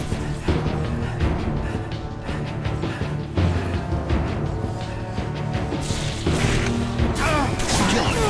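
Loud, dense game combat from Halo Reach's zombie Infection mode: several heavy crashing blasts, including a bomb detonation, pile over a steady roar of gunfire and whooshes, with an announcer-style voice appearing briefly.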